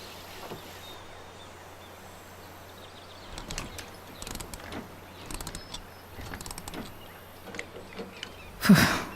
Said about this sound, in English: How can I tighten it? The tool? A wrench, perhaps?